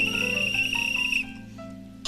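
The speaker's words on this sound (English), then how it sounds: "You blow a whistle" A whistle blown in one long, steady, piercing note that holds for about a second before cutting off, followed by quiet room sound, as a character calls fish in a children's pond scene.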